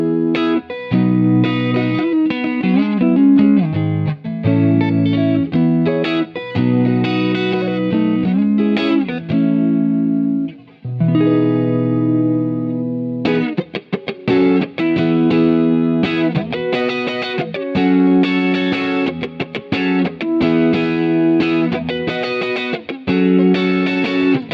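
An electric guitar run through Guitar Rig 5 with a distorted, effects-laden tone plays continuous chords and riffs, with one brief break midway and no talking.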